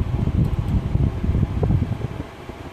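A Toyota RAV4's HVAC blower fan runs with a steady, close rushing whoosh of air and low rumble, continuous and even throughout with no talk over it.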